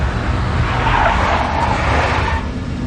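Tires of a big black Mercedes screech loudly in the Max Payne video game, a sustained, close skid squeal that swells and then eases under a continuous roar of the car.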